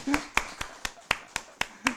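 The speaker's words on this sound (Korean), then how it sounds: "우리 박수 한번." A few congregation members clap in a slow, steady rhythm, about eight distinct claps over two seconds, during a Sunday church service, with a faint voice at the start and end.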